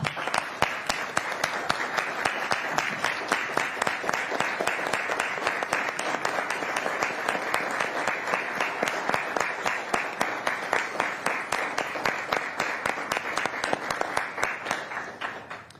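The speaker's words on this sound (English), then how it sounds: "I would appreciate if we could all give our officers a round of applause" At a Puyallup city council meeting, a crowd gives police officers a dense, sustained round of applause lasting about fifteen seconds, steady and even throughout before tapering off at the end.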